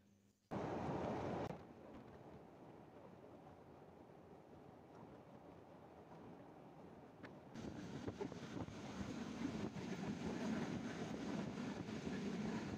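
Sirajganj Express train at a stop during coupling, a steady broad rumble of rail machinery and wind-buffeted outdoor air that thickens and grows louder partway through, with no voices.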